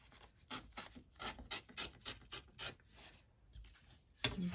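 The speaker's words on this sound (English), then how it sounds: "So I'm just gonna trim this down." Trimming a paper craft tag base, with repeated close rasping strokes in a steady series of short rubs and scrapes, fairly quiet, with no voice.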